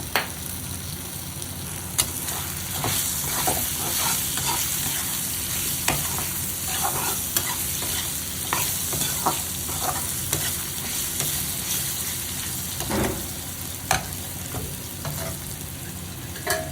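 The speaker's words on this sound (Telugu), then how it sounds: "మధ్య మధ్యన కలుపుకుంటూ ఉండాలి" Potato and brinjal pieces with turmeric fry in a pan, a steady close sizzle broken by frequent scraping stirs and light clinks of the spoon, with no talking.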